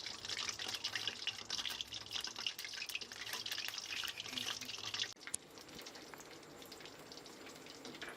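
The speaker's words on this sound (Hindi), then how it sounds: "अब हम इसको फ्राई कर लेंगे। आंच जो है वो हम मीडियम रखेंगे।" Chicken zinger strips fry in oil over medium heat with a steady crackling sizzle and scattered pops, close and fairly quiet, dropping to a softer sizzle after a brief clunk partway through.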